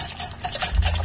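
A spoon scrapes and swishes through thick lentils in a pot, a short stirring sound with soft clinks; no talking.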